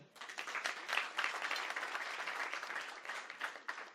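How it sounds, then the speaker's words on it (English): A graduation ceremony audience applauds, dense continuous clapping that is fairly faint and distant, swelling early and then holding steady. "Let us clap for all of them."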